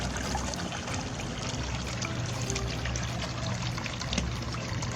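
Water pours steadily into a garden water tank on a small farm, a soft continuous trickling and splashing stream heard at moderate distance without any voices.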